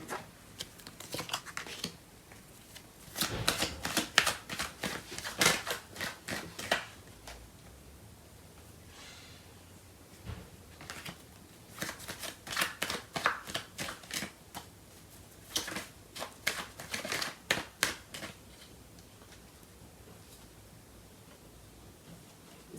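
Tarot cards are shuffled in bursts of rapid, crisp riffling and slapping, close to the mic, separated by short pauses in a quiet room.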